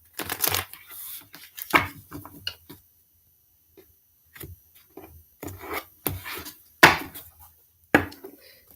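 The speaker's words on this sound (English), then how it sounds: "One more shuffle." A deck of tarot cards is shuffled by hand in short, irregular bursts of riffling and rubbing, close up, with brief quiet gaps between.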